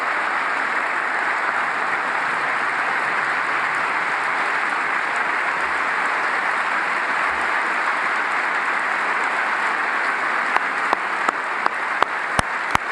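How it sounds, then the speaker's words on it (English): Sustained crowd applause fills the chamber at the 2018 State of the Union, a dense steady roar of clapping with several sharp, loud hand claps close to the microphone near the end. "Trump needs to make sure that his clapping is a little bit further away from that microphone"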